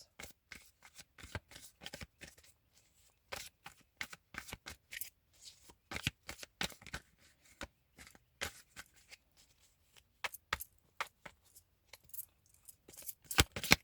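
Tarot cards are shuffled and drawn in repeated crisp bursts of riffling and snapping. Short gaps fall between the bursts, and the sound is close and moderately loud with no talking.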